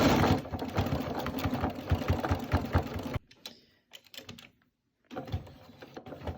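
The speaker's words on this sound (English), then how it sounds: "So going back up to that corner, I'm gonna do a few back stitch." A sewing machine runs back stitches at the corner of a fabric mask: a fast, dense mechanical rattle for about three seconds, then near silence with a few short stitching bursts before it runs again, close and loud.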